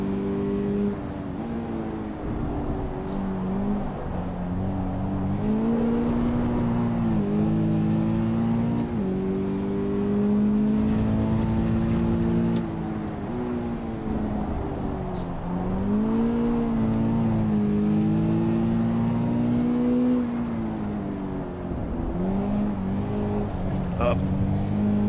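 Race car engine in Assetto Corsa EVO held in a long drift, its steady droning note rising and falling with throttle and revs throughout, close and continuous under intermittent talking.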